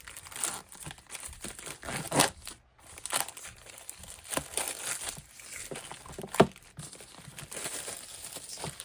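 Packaging crinkles and rustles while a handmade card making kit is unboxed, an irregular run of close crackling and crumpling with a sharper snap partway through, heard alone without talk.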